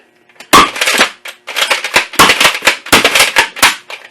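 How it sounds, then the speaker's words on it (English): A Dart Zone Apex foam dart revolver blaster firing several shots in quick succession, each a loud, sharp, close pop with clacking mechanism noise in between. "let's go ahead and fire off a few shots"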